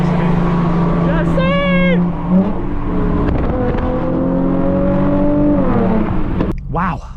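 Porsche 918 hypercar engine idling and revving on a large car rally, a loud steady drone with rising whines over the top while a voice talks nearby.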